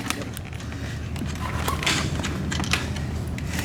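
A bolt being worked loose on a sailboat cross tube, giving a steady stream of creaking metal and small mechanical clicks close by against a constant background rush.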